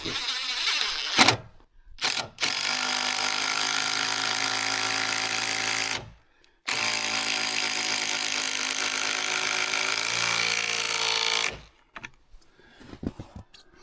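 A power drill whirs steadily for several seconds, pauses briefly, then runs again at length as a screw drives into a fresh 2x4 without pre-drilling, with short clicks and handling noise around it.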